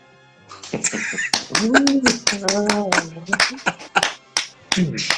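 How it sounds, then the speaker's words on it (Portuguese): Sharp hand claps, a few at a time, come in an irregular rhythm close to the microphone, mixed with a voice singing and talking over and between them. "Palmas!"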